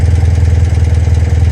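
A BMW Airhead motorcycle engine with a failed alternator idles slightly high, giving a loud, close, steady low thrumming pulse with no voices.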